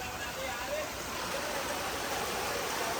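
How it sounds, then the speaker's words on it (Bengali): Floodwater rushing steadily through a street in Vrindavan near a temple, a dense continuous roar of flowing water heard close, with no breaks. "গোপীনাথ বাজারের যত জল এখানে নামছে"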